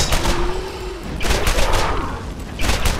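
Gunfire from the player's weapon in the Borderlands video game: three dense bursts of rapid shots, the first at the start, another around the middle and a final one at the end, loud and close with no talking.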